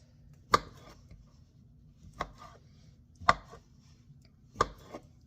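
Sausage is chopped on a cutting board, four sharp, distinct knife strikes spaced about a second apart, close and clear against a quiet background.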